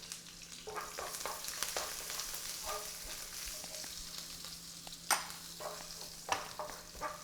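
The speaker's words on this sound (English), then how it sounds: "Give them a stir." Bay leaves, chili and cinnamon sticks fry in oil for chicken curry, a soft, steady sizzle with a few sharper stirring scrapes against the pan.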